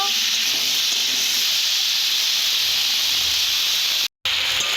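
Khoira fish sizzles with salt in a hot pan, a loud, steady hiss that runs almost unbroken apart from one brief cut near the end.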